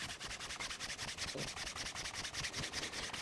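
A leather mouse pad edge is burnished by hand, a close, steady rubbing and scraping sound in quick back-and-forth strokes with no talk.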